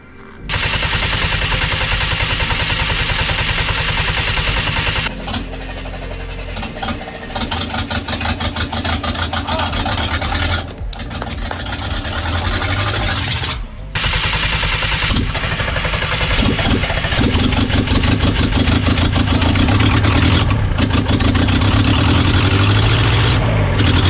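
A Perkins 4.108 marine diesel engine on a sailboat cranks, then fires and runs loud and close, with a rough, heavy knocking idle that briefly cuts out twice before settling into a steady roar.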